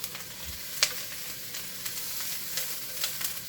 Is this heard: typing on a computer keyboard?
no